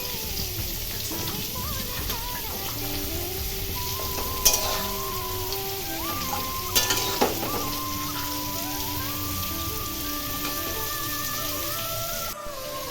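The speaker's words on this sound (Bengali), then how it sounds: "কড়াতে তেল দিয়ে দিয়েছি পাঁপড় ভাজবো" Papad fries in hot oil in a wok, a steady faint crackling sizzle with a few sharp taps of a spatula, heard close over a long stretch, with a background tone and no speech.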